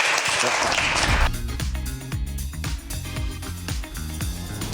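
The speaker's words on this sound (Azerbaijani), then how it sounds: "Alqışlar" Audience applause at a comedy talk show, a brief burst of clapping that quickly fades under rhythmic stage music with a steady beat.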